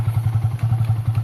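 A motorcycle engine chugs with a quick, regular thumping pulse, close and fairly loud, the rhythmic low beat of an idling or slowly revving bike with no talk over it.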